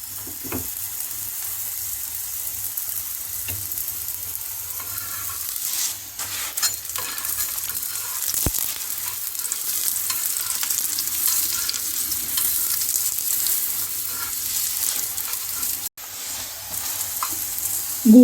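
A jaggery (gur) paratha fries in ghee on a pan with a steady, close sizzle that carries on unbroken for the whole stretch, broken only by a few faint utensil clinks and no talking.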